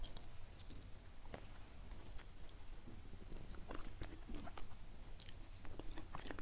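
Close, sticky chewing of a truffle chocolate glutinous rice cake, with soft, irregular mouth sounds and light smacks over a steady background hiss, and no talking.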